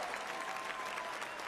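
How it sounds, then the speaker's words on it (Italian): A concert audience applauds, producing a brief, even wash of distant, fairly faint clapping with no break. "Applauso."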